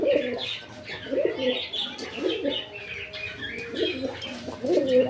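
Pigeons cooing nearby, repeated soft throaty coos in irregular phrases with some chirps and occasional wing flutter, faint voices in the background.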